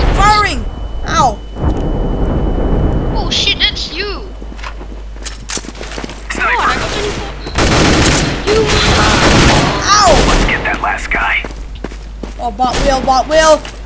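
Gunfire in CS:GO, repeated loud bursts of automatic shots and slams over several seconds, with excited voices talking over the action.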